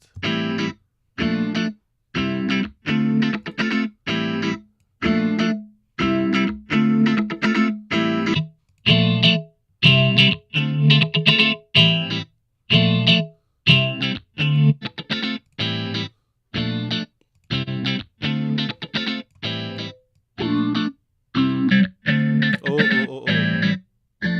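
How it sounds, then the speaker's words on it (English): Synth preset run through a liquid phaser with a touch of reverb, heard as a rhythmic sequence of short, evenly spaced chord stabs with sweeping tonal coloration and brief tails between notes, no voices. "Let's add a nice phaser that sounds liquidy and put a little bit of reverb on top of that."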